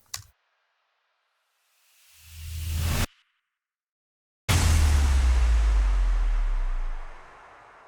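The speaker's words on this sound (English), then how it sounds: "most of them are just some impacts, some risers, some subdrops, stuff like that" Electronic sound effects layered on a metalcore drop: a short impact hit, a rising riser swelling then cutting off, silence, then a loud burst with deep sub drop rumble decaying away, no voices.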